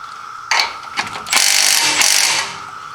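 A ratchet turns a large bolt on a sway bar end link of a 2010 Lincoln MKT front suspension, with a short click at first and then a longer, loud run of rapid clicking that fades at the end.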